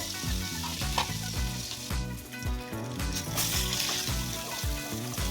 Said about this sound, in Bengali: এইভাবে উল্টে পাল্টে টমেটোগুলোকে একটুখানি ভাজা করে নিতে হবে